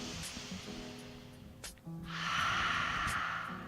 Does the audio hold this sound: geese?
no